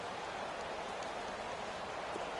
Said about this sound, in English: You add in a downpour like we're in right now, it makes it that much harder.